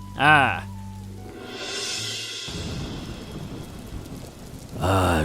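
Heavy rain hisses steadily with a deep rumble of thunder beneath it, while voices speak briefly at the start and end.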